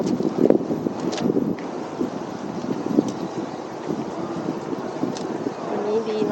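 Steady wind blows outdoors at Gene Coulon Memorial Beach Park, a loud continuous rush with gusty buffeting on the microphone throughout, and occasional soft bumps and voices in the background.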